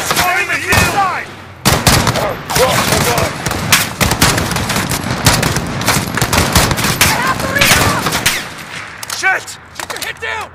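Call of Duty Modern Warfare gameplay is filled with loud, dense automatic gunfire: rapid bursts and overlapping shots, with shouting voices mixed into the firefight.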